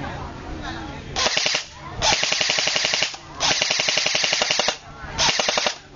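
Bursts of rapid automatic airsoft fire, four loud rattling volleys separated by short pauses, recorded up close.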